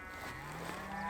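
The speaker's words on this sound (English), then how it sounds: "Mainly because of those darn cows." A cow moos once, a short low call close by out on a ranch-like stretch of open ground, standing alone without any talking.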